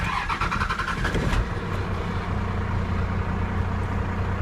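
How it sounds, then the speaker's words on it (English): An AirDog fuel pump kicks in on a 1994 Dodge Cummins truck with a rough, high-mileage engine: a rattling burst gives way to a steady, droning low hum. "You can hear that air dog kicking in"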